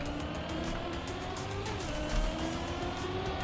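A car slides across ice through tight spaces in the racing game Trackmania, a continuous engine drone with a faint tire hiss and a slight swell near the end, steady and unbroken.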